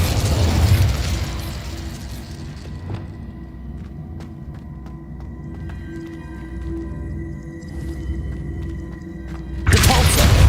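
Spell explosions in a Hogwarts video game, Incendio and Descendo: a heavy blast at the start, a low rumbling, ringing stretch between, then another loud burst at the end.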